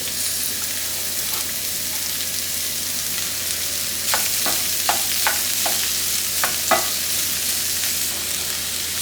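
Onions and peppers frying in olive oil in a pot, a steady bright sizzle throughout with a few brief stirring clatters midway, close and without voices.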